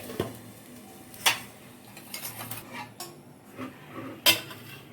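A metal lid goes onto a cooking pot of malai jhinge ridge gourd curry, with two distinct sharp metallic clinks and some lighter clattering of cookware in between, close and otherwise quiet.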